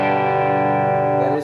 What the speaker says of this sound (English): that is with the reverb on